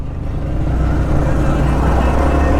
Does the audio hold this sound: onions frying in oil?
no